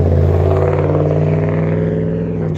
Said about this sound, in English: That truck sounded nice.